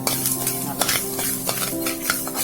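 Rock salt being lightly heated in a pan and stirred, with close scraping and rattling strokes against the metal over a faint sizzling hiss, several distinct stirs in quick succession.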